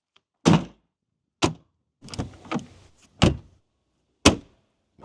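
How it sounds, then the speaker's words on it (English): Doors and the hood of an INEOS Grenadier 4x4 slammed shut one after another, giving five or six solid, heavy metallic thunks at close range, with a few faint rattles between them and no talking. "when you close them, they all close, including the hood, with a satisfying thunk"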